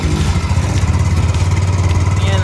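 A Yamaha Mio MX 125 scooter-style motorcycle with a stock engine, run up at a meetup: a loud, close, steady buzzing engine drone with slight rhythmic pulsing and a rattly edge, heard continuously without speech.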